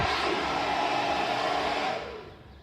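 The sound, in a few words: hairdryer running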